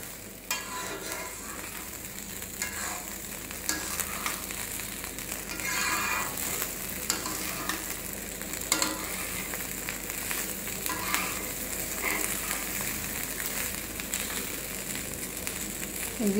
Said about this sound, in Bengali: একদম মচমচ শব্দ হইতেছে ভাজার